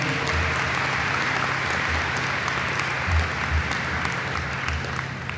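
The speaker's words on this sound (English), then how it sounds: "let's give a round of applause for Brian O'Neill" A school-district audience at Savannah High School gives Brian O'Neill a round of applause, a steady, dense wash of clapping sustained throughout with a low hum underneath.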